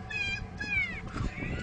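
A cat meows twice in quick succession, close and clear, with rising-then-falling tonal cries followed by a softer trailing sound; no talking over it.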